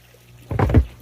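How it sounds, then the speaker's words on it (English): Water pushed out by a pump draining a garden pond, a sudden gushing, splashing burst starting midway and swelling for about half a second, fairly close and alone. "You can see the water coming out."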